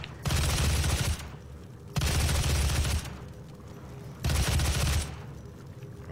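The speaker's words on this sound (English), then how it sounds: "we got to deal with these Doomkoffs that are shooting at me here" Doomkoff enemies firing in a Doom SnapMap level, three loud sustained bursts of rapid gunfire about a second long each, separated by short quieter gaps.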